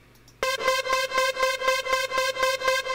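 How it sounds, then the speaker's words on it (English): A classic trance synth lead patch from a Logic Pro sampler instrument plays a bright, buzzy repeating hook of evenly spaced staccato notes, starting abruptly after a brief quiet moment and continuing alone. "Okay, so we've loaded up classic trance channel strip for this audio instrument track, and it's loaded the excess sampler with a trancey hook"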